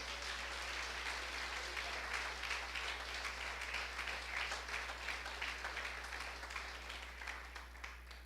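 Sustained applause from a church congregation during a Spanish-language service, a dense wash of many hands clapping together steadily for several seconds at moderate distance over a low hum, with no speech.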